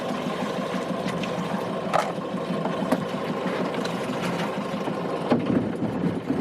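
A boat engine, just put into gear, drones on continuously with a churning, watery rumble underneath, and a few faint clicks and knocks break through.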